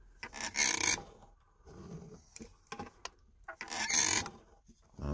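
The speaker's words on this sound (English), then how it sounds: "The carriage gets scraped on that little surface right here" The carriage of a back-drivable linear actuator scrapes against a small roller stop surface, giving close raspy rubbing strokes that come in two strong bursts with fainter scrapes between them.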